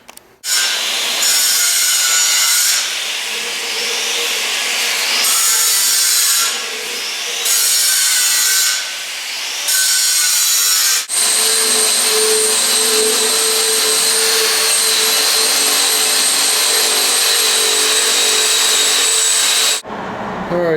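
Power tool grinding a chamfer or bevel along a steel edge before heavy welding on a trailer build, a loud, continuous abrasive whine that surges and eases in several passes, then shifts pitch and runs steadily before cutting off.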